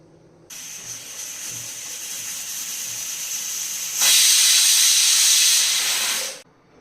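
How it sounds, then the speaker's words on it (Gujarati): Toor dal boils in a pressure cooker over a medium flame, giving a steady close hiss of escaping steam that suddenly surges louder partway through, then cuts off. No one speaks. "હવે આને મીડિયમ આંચ પર આપણે બાફી લઈશું"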